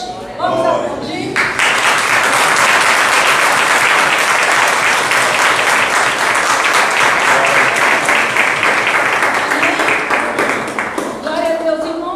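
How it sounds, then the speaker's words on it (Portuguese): A church congregation bursts into loud, sustained applause during a Sunday celebration service, a thick roar of many hands clapping at close range, with voices audible at the start and end. "Vamos aplaudir."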